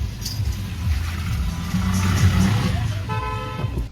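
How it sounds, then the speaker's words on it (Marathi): Heavy evening road traffic on a Pune to Tuljapur road trip where roadworks slow the flow: a steady low rumble of engines close by, with a car horn honking near the end. "8 वाजलेत आत्ता आणि भरपूर ट्रॅफिक लागलं आहे"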